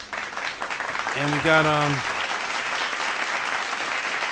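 Applause and hand clapping during a live stream, a sustained dense patter under a voice that speaks briefly in the middle.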